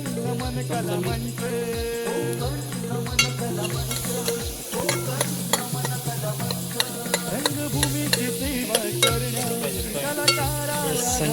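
Sliced onion and dried coconut roast in a pan while a spoon stirs and scrapes them. Continuous scraping and sizzling carry through, close and steady, with no pause.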